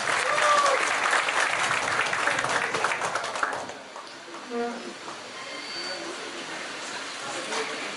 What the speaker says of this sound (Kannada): ದೊಡ್ಡ ಚಪ್ಪಾಳೆ ಹೊಡಿರಿ ಸ್ನೇಹಿತರೆ